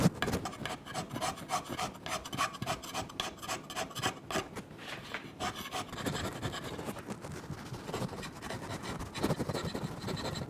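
A hand scraper works a metal surface for flatness, making rapid rhythmic rasping strokes, close and steady, that blur into a continuous scratchy texture throughout.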